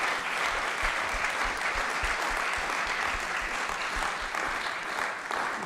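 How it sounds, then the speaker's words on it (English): A conference audience gives a sustained round of applause at the close of an academic gathering's first day, dense and loud clapping from many people filling the room without a break. "A great round of applause for everybody."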